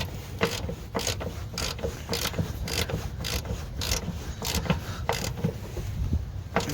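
A ratchet tightens a bolt on the upper control arm of a 2001 Honda CR-V, producing a steady series of close, sharp clicking strokes in irregular bursts, without talk.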